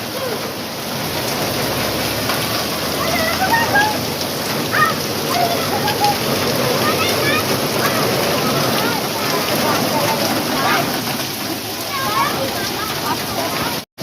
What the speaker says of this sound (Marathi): वारा आणि पाऊस मुसळधार पाऊस पडतोय